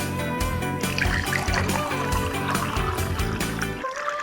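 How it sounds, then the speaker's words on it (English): Water pours steadily into a glass for a few seconds, a close, continuous trickling fill with a rising tone that stops abruptly near the end. "I will take my glass, put the water."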